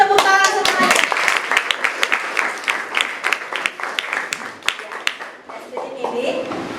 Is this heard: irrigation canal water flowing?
no